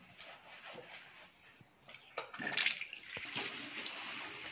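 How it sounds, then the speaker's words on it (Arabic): Water running from a tap while a bathroom sink is cleaned, a steady hiss of flow with scattered splashes and handling knocks, close and moderately loud. "وهو المية شغالة برضو كده اهو"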